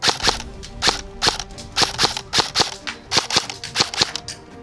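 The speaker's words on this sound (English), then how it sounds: "It's my turn to shoot the gun." Nuprol airsoft AEG rifle firing at targets outdoors: a string of sharp, close snapping shots in uneven single and double bursts, each followed by a brief tail, with no talking.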